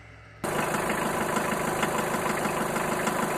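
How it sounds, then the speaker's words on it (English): A car engine runs behind a house, switching on abruptly after a brief quiet lead-in and then holding a steady, close-sounding idle with a slight knocking rumble. "from behind the house, came the faint sound of an engine"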